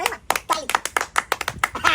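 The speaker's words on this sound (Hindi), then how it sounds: "ताली मार" A loose series of hand claps, about a dozen sharp strikes in an uneven rhythm, sounding close and fairly loud at a lively Maithili comedy wedding scene, with voices talking over them.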